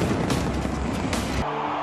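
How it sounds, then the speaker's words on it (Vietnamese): Fireworks bursting over Sydney harbour and the Opera House on New Year's Eve, a dense, continuous barrage of booms and crackles heard at a distance, with no talk. "màn bắn pháo hoa đón giao thừa lớn nhất thế giới đã diễn ra ở tại cảng và nhà hát Opera Sydney"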